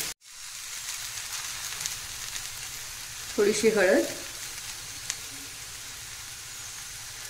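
Okra tempering in a pan sizzles steadily as turmeric and coriander powder go in, with a brief louder burst of frying in the middle and a short spoken remark.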